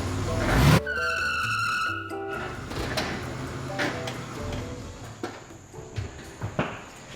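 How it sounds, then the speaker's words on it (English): Tires squeal and skid inside a shed with a sharp engine burst at the start, then echoing rumble, clatter and scattered knocks as voices talk over it. "Biggest skid you've ever done in the shed."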